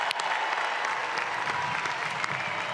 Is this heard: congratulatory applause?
yes